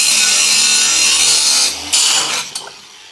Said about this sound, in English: use the grinder to remove this and then smooth it down